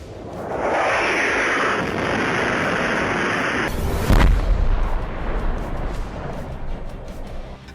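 Israeli airstrikes hit Lebanon with a sustained roaring rumble, then a single sharp, heavy blast about halfway through, followed by a lingering, fading boom.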